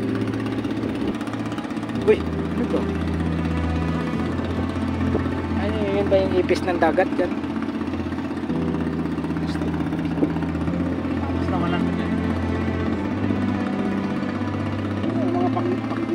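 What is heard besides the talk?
engine of a boat towing a barge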